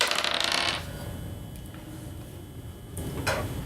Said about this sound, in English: Just roll 2 dice and then Fine.